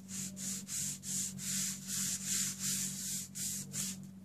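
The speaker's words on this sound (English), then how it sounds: "I'm going to turn it over and just give it a light rub" Gentle rubbing across a paper card, about a dozen soft, even strokes in a steady back-and-forth rhythm, close and quiet over a low hum.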